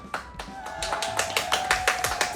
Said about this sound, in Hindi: कमेंट के लिए तालियां